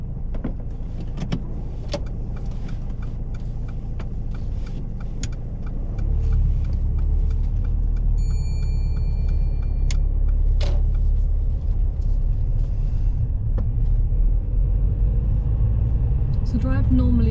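A car pulls away at the start of a UK practical driving test: a low in-cabin engine rumble that swells and stays heavier as the vehicle moves off, with a few light clicks.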